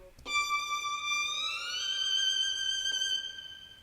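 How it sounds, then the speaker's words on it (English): Chris Hine solo violin sample played in Kontakt, a single sustained bowed note that slowly glides upward in pitch, clean and alone for a few seconds before fading slightly. "Went to Contact again and used the Chris Hine solo violin"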